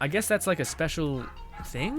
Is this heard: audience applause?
no